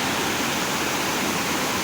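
The Sol stream rushes toward the Canikdere waterfall near Tonya, Trabzon, a dense, steady roar of churning water heard up close without pause.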